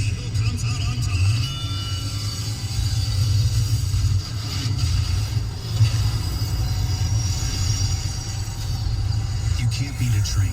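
A heavy million-pound freight train rolls past with a loud, continuous low rumble and rattling, while a voice speaks over it.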